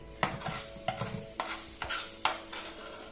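Drumstick leaves tossed with onion and green chilli in a nearly dry pan, spatula scraping in regular strokes roughly every half second over a soft sizzle, close and fairly quiet.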